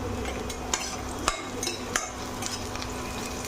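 Chopped onion frying in oil with a small cardamom, cinnamon and a bay leaf, a steady low sizzle broken by a few sharp clicks of a spoon stirring against the pan.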